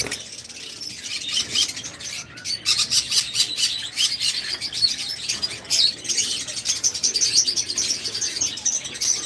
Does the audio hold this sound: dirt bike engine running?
no